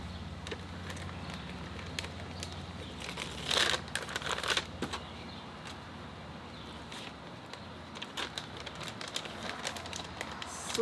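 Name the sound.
tearing open MRE chili macaroni meal packaging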